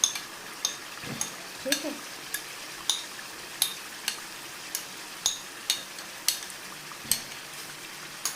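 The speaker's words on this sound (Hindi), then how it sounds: "अब इसमें जाएगा जी ये दूध दही।" A milk-yogurt mix is stirred into frying chicken handi in a pot, giving steady, evenly spaced spoon clicks against the pan about every half second over a soft sizzle, with a brief spoken word.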